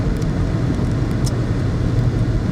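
A 2007 BMW 335i E91 estate driving slowly round the block after a wheel bearing replacement, heard from inside the cabin as a steady low engine and road rumble, loud and continuous, with no talk.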